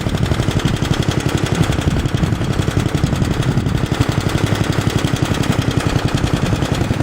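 A small S-17 engine runs close by with a loud, rapid, even chugging pulse that continues throughout, with no voices.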